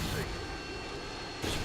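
Harrier jet aircraft in a Call of Duty match on the Salvage map, a steady roaring jet drone that fills the clip, louder at the start and end, with a voice talking faintly underneath.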